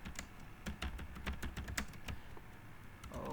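Rapid typing on a computer keyboard during a Linux Apache setup session, with dense clicky keystrokes in quick irregular bursts, close and clear with no voices.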